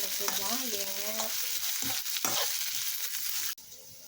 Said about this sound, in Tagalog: habang ako'y naghihintay na maluto ang sibuyas